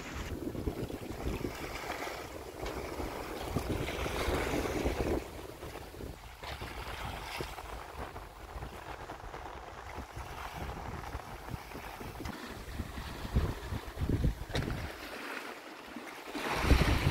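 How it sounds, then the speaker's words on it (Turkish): A continuous wash of ocean waves and surf heard from a passing boat, with gusty wind noise on the microphone, steady and fairly loud throughout, with no speech. "Dalgaların gürültüsü geliyor."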